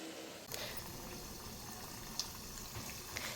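Covered pot of chapati alu vadi steaming on the stove, a steady soft hiss and gentle bubbling that runs evenly throughout with a few faint clicks.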